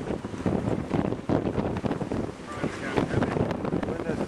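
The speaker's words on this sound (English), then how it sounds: "The wind doesn't die down any." Strong wind buffets a sailboat out on the water, a loud, rough, continuous roar with gusty surges and microphone rumble throughout.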